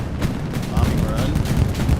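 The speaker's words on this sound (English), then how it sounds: "Bombing run." A bombing run in Hell Let Loose, set in a Carentan battle, rolls as a continuous low rumble of distant explosions and artillery-like booms with no pause, dense and muffled.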